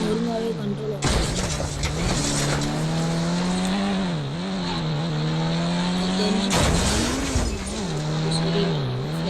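A car engine drones steadily in an Indian bike driving video game, its pitch rising and dipping as the car steers, with bursts of tire screech and clatter.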